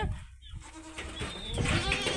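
Goats bleat on a farm where a breeding buck and young kids are kept, several overlapping wavering cries rising in the second half, fairly close over steady outdoor background.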